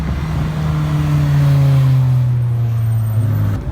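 A Mazda Miata drives past at a Cars and Coffee show in Southlake, its mid-pitched engine note holding steady and loud up close, then settling slightly lower as it moves by.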